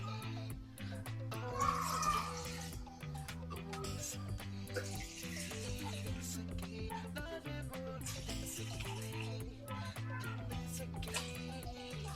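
Water runs from a kitchen tap into a cooking pot for Hakka noodles, a soft continuous pour heard faintly with tonal background music over it.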